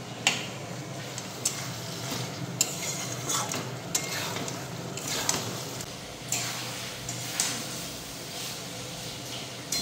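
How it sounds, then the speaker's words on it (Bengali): Meat sautés in oil in a pan, a loud close sizzle punctuated by repeated spatula scrapes and clinks against the metal, steady throughout with no talking. "এদিকে মাংসটা তো কষানো হচ্ছে"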